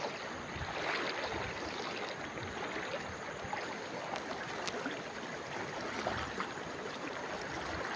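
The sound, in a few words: village river water flowing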